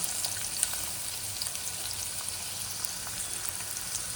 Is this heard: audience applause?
no